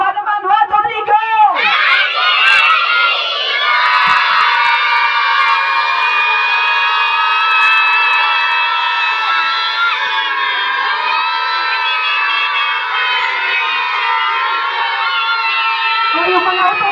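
A crowd of children at a birthday party shouts "happy birthday" together in one long sustained cheer, loud and close, after a short burst of voices at the start.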